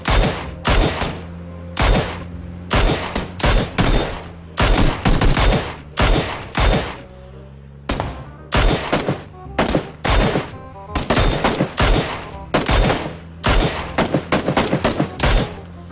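PUBG gunfire: a long string of sharp, loud single shots and short bursts fired in quick, uneven succession, close and punchy with brief gaps between them.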